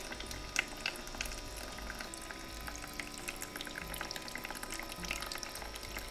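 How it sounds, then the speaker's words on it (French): Tap water runs steadily into a kitchen sink being filled for washing vegetables, a continuous splashing pour heard close and alone. "j'ai mon évier, donc là j'ai ouvert l'eau. L'eau qui coule dans l'évier que l'on va remplir."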